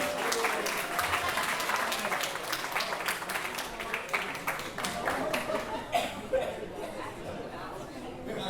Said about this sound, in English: And a round of applause for Caitlin.